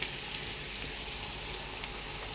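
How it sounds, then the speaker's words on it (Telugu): Carrots frying in a pan for a samosa filling give a steady, close, even sizzle with a bright, broadband hiss that holds through the whole stretch, with no voices over it. "ఇప్పుడు ఇది వేగిపోతూ ఉంటుంది"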